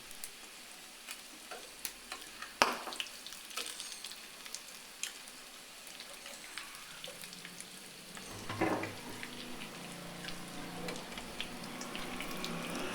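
Egg and potato kebabs fry quietly in a pan, a low steady sizzle with scattered ticks and a couple of louder clinks or stirs, gradually crackling more toward the end.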